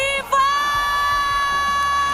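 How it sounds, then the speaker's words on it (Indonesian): Crowd cheering and applauding at an esports trophy ceremony for EVOS Divine's Piala Presiden 2022 win: a loud, steady wash of noise with a sustained tone running through it, after a brief dip near the start. "Oke sekali lagi kita berikan tepuk tangan untuk EVOS"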